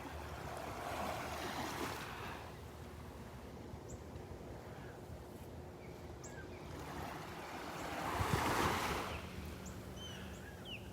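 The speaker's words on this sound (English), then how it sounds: "The waves getting knocked down by the offshore breeze" Calm ocean waves wash onto Vanderbilt Beach in an offshore breeze, a soft continuous surf hiss with a gentle swell of a breaking wave near the end, heard without voices.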